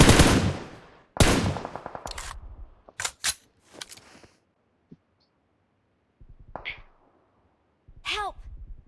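Machine gun spray in a video game: several sharp bursts of rapid gunfire in quick succession, then scattered single shots and short clatters with gaps of silence between them.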